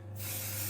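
Cooking spray hisses briefly from a can into oven baking pans before biscuit batter goes in, a single close, steady spray burst.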